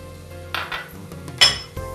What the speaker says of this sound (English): Give it a good stir and mix it well